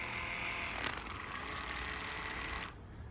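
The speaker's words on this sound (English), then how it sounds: "You can see the Waterpik sprays very well." A Waterpik water flosser runs with a close, steady buzzing whir and hiss of spray, holding even for nearly three seconds before cutting off.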